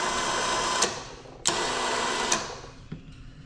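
A Super Winch electric hitch winch running on its remote: a steady mechanical whir and hum with four sharp clicks spaced about a second apart, close and fairly loud.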